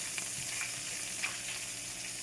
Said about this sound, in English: we want to slightly saute them